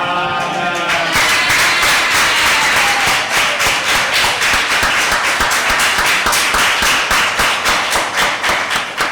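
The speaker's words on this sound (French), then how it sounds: "Ça là mérite applaudissement." A church congregation claps in a loud, close burst that settles into a steady rhythmic beat of synchronized claps, continuing evenly with no talking.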